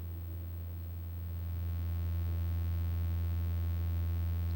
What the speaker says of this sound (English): Got a sine, which is really quiet.